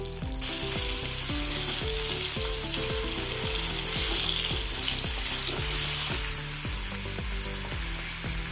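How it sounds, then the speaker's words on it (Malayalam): Mango pieces fry in hot oil for pickle, a loud, continuous close sizzle and bubbling with a repeating underlying thump throughout. "മാങ്ങ പൊരി എടുക്കുക രണ്ടാമതും ഇട്ട് കൊടുക്കുക"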